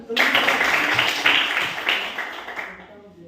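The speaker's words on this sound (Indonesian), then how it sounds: "Mungkin berikan tepuk tangan." A primary school classroom of fourth graders breaks into applause for a group presentation, a dense, steady wash of many hands clapping that lasts a few seconds before stopping abruptly.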